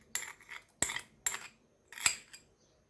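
Chicken being stirred with ghee (samn) in a pan, giving four separate clinks and scrapes of a utensil against metal, close and fairly quiet, with short pauses between them and no talk.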